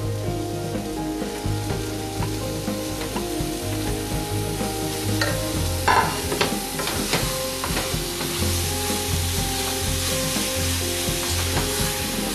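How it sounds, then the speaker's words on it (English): Meat sautés in a pan with tomato paste and spices, giving a dense, continuous sizzle and crackle throughout, with occasional utensil scrapes and a faint low hum beneath, no talking. "We've let this meat saute for a couple minutes"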